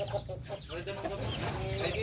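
Several chickens and chicks cluck and murmur close by in quick, overlapping bursts against a low background hum.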